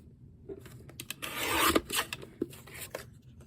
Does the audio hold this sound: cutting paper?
yes